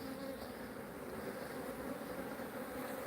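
A dense, steady drone of many honeybees crowds an open hive box during a colony inspection, loud and continuous with no voices.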